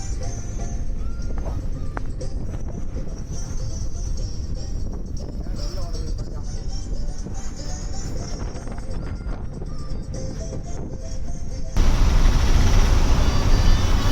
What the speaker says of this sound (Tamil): மதுரையில் வந்து சரியான ஹெவி டிராஃபிக்குங்க